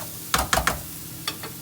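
Onion with a pinch of salt caramelizing in a pan, giving a steady sizzle broken by a few bursts of stirring scrapes. Close and clear, with no voices.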